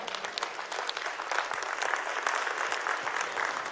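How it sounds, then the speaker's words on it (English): Guests at the ASEAN Summit gala dinner in Kuala Lumpur give a big round of applause, dense and sustained crowd clapping at a steady level throughout. "Please give a big round of applause for everybody tonight."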